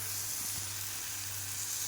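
Spice masala sizzling as it is sautéed in a pan, a steady, close hiss and crackle of frying with no break.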